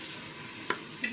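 Fenugreek leaves go into a pan of hot sizzling masala, making a soft, steady frying hiss with a couple of brief stirring scrapes.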